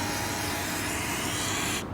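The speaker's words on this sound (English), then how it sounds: "I'm going to start off with WD-40 to remove the rust on the chain" A continuous close hissing spray of WD-40 from an aerosol can onto a rusty motorcycle chain, steady for about two seconds before tapering off.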